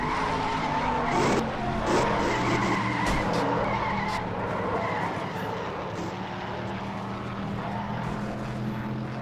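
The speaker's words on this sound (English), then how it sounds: "Bad crash here at Charlotte on the 9th lap of the race." In a NASCAR-style racing game at Charlotte, a race car crashes and skids on the ninth lap of the Coca-Cola 600 race. A continuous loud roar of engines and screeching tires carries on throughout, with sharp impact bursts near the start.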